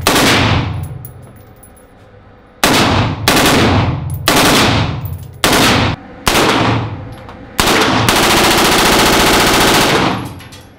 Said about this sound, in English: Switch it one more time, that's a set, it's 3-round burst.